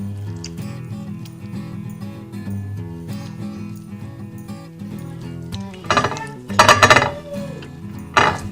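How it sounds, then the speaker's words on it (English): Metal utensil scraping jellied, long-stewed corned beef off the bottom of a stew pot, with low cooking rumble throughout and a burst of louder clinks and scrapes near the end. "we're going to go ahead and scrape that off so we don't lose any meat"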